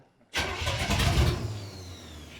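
An old car's engine on a custom build cranks and catches abruptly, roaring up loudly then settling into a rough, throbbing idle close by, with no talk.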